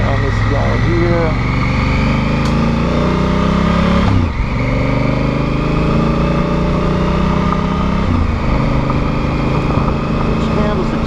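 A Honda Africa Twin adventure motorcycle engine runs steadily while riding on gravel, a loud continuous drone with slight throttle shifts, close up and with no talk.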